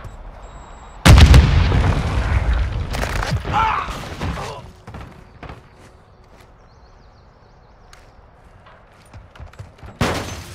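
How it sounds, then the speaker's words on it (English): Grenade blasts in the video game Call of Duty: Modern Warfare II: a loud, close boom with a rumbling tail, then scattered gunfire and crackling clicks, and a second heavy blast near the end. "Throwing grenade!"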